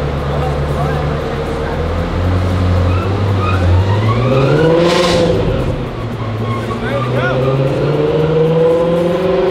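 A Ferrari F430 revving hard on a dyno, the engine note rising and falling loudly and close by, with people talking over it.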